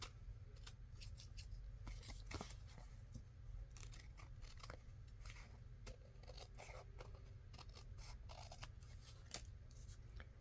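Scissors snip and trim fabric scraps for collaged quilted pockets, with rapid, close, crisp cuts repeating irregularly over a steady low background hum and no talking.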